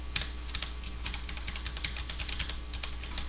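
Arrow keys on a computer keyboard are tapped repeatedly while Shift is held, producing a quick, fairly even run of soft close-up clicks with no talking.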